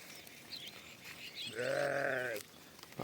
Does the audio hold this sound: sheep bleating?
yes